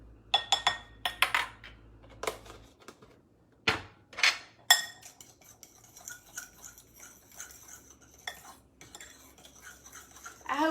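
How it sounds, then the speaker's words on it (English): A utensil stirs half a teaspoon of vanilla into a tablespoon of heavy whipping cream in a small dish, giving close, irregular clinks and scrapes with short quiet gaps and no talking. "And then we're going to mix that together."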